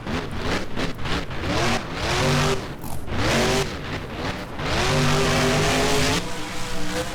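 A monster truck in the BeamNG driving game revs hard while spinning donuts in an arena, its engine rising and falling in repeated loud surges with tire and chassis noise close by.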